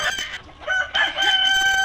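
Tiger chickens at Arafat Farm House crow loudly and close by, a drawn-out call mixed with clucking from the flock.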